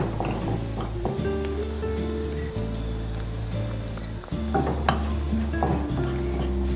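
Finely chopped garlic and celery stir-fry in a pan, making a continuous close sizzle broken by repeated stirring scrapes and taps of the utensil.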